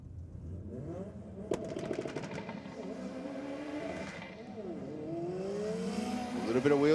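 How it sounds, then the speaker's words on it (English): A Mitsubishi Lancer and a Ford Falcon drag race at Sydney Dragway, their loud engines revving and roaring with a brief spin of the wheels, while a commentator talks over the race. "A little bit of wheel spin into a bog for the Lancer, but on the straight and narrow now."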